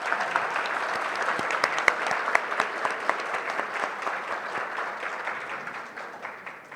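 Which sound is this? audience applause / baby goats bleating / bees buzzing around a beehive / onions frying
audience applause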